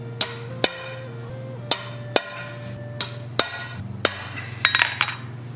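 A chisel is hammered into hot iron at low black heat while forging an owl pendant: about nine sharp, ringing metallic strikes at an uneven pace, close and loud, with no talking.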